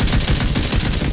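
Sustained automatic gunfire spray in PUBG, a rapid loud burst of shots fired in tight succession at close range with no talk over it.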